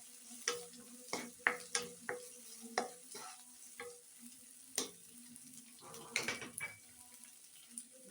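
Chopped banana flower frying in a few spoons of oil in a pan, with a low sizzle beneath a series of sharp stirring clicks and scrapes of a spoon against the pan, close up with no talking.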